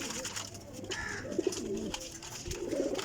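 Pigeons kept by a fancier coo in short, soft, low murmuring phrases, close by over light background noise.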